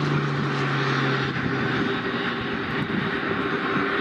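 An airplane lands in a very heavy crosswind, its engine giving a steady, moderately loud drone with a sustained tone throughout and no talking.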